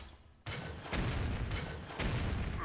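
Cannon shots in the Hearthstone video game, a dense, rumbling barrage of booming blasts that starts abruptly after a brief quiet moment and swells again near the end, loud and close, with no talking.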